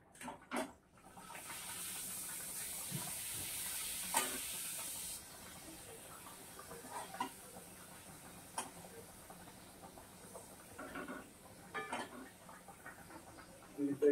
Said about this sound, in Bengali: পাপড়টা ভাজা হচ্ছে, পাপড়টা ভেজে নিই